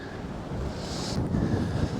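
Outdoor wind gusting against the microphone, a soft broadband rumble that swells slightly toward the end, with no voices.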